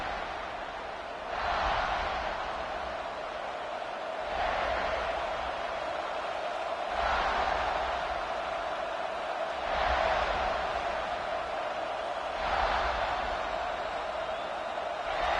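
Stadium crowd in an NCAA football video game, South Carolina matchup: a steady roar of massed voices that swells in broad waves every few seconds, filling the background continuously.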